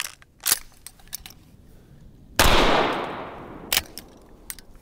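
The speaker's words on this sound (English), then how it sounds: "Now let's try a 12-gauge slug." A 12-gauge shotgun slug fired outdoors. Light clicks and handling noises come first, then one loud, close, booming shot rolls off in a long decaying echo. More clicks follow.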